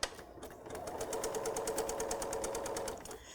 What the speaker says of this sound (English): We're going to sew a 1/4 inch down each side of the line.